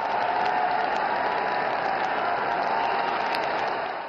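A large crowd applauds continuously in the forecourt of Rashtrapati Bhavan at Narendra Modi's 2024 prime ministerial oath ceremony, a dense, steady roar of clapping that fades slightly at the very end.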